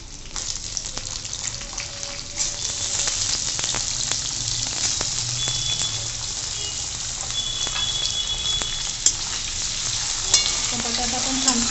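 Chopped potatoes frying in a garlic tempering for cabbage sabzi, giving a steady bright sizzle with stirring and scraping in the pan and a few sharp clinks of the spoon.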